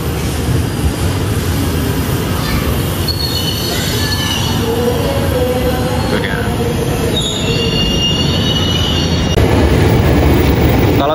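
A Jakarta KRL commuter train rumbling past close by, heavy rolling noise with high metallic wheel squeals rising and fading as it moves along the track.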